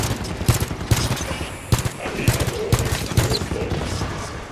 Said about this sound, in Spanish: ¡Torretas automáticas. ¡Torretas disparando!